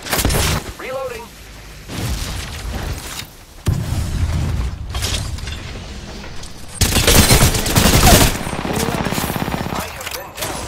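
Rapid automatic gunfire in Apex Legends, with bursts of shots, a mechanical weapon reload, louder volleys later and a brief voice in the middle.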